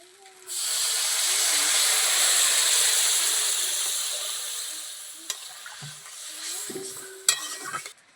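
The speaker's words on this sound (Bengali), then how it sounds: "ভালো করে ভালো করে মশলাটাকে নাড়াচাড়া করে ভেজে নেব" Spice paste with turmeric frying and being stirred for a sour mud crab curry cooked outdoors in a Sundarban village, a loud sizzle surging up then fading, followed by spatula clatters and scrapes.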